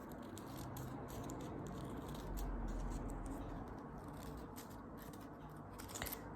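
Scissors snip through costume fabric in a series of quick close crunchy cuts, faint against a steady room hum.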